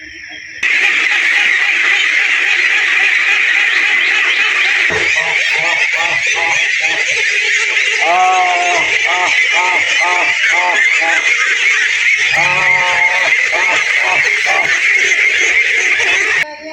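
Ducks on a duck farm honk and quack in a dense, continuous flock chorus that stays close and loud throughout.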